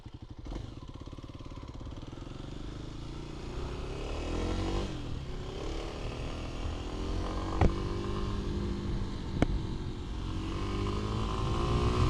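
A 2025 Kawasaki KLX 300 dual sport motorcycle riding on the road, its engine droning steadily and rising in pitch as it accelerates and shifts, heard close with wind noise.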